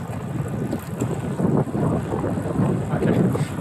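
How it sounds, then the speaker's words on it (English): Strong gusts in Tiger Leaping Gorge, China, buffet the microphone in a continuous, rough rumble, loud and close throughout. "It's so windy, I need my hands"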